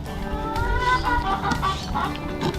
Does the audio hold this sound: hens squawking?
yes